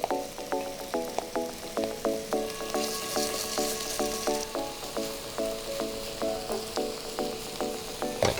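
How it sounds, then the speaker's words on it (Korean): Doenjang soybean paste sizzling and frying in oil in a stainless steel pan, a steady crackle broken by rhythmic stirring scrapes roughly every half second, fairly close and with no talking. "이 오일 위에다가 아까 만들어준 된장을 볶을 거예요."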